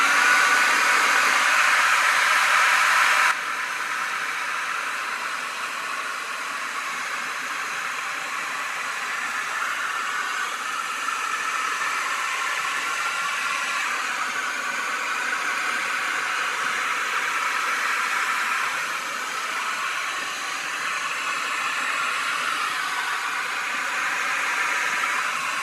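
A hair dryer blows over wet paint in a steady, continuous rushing hiss that stays close and fairly loud for nearly half a minute, louder briefly at the very start.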